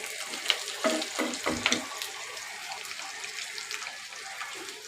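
Fish roe fries slowly in oil over low heat, a faint, steady sizzle broken by a few soft clinks and stirring scrapes near the start, then settling into a quiet crackle.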